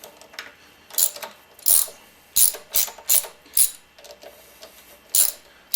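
A hand ratchet loosens bolts on the front wheel of an F650, with short bursts of sharp clicking separated by brief pauses, close and clear.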